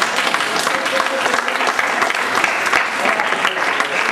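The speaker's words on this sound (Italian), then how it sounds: "Applausi." Crowd applauding at a village gathering in Poggio Berni, a loud, continuous clatter of many hands clapping close by with no pauses.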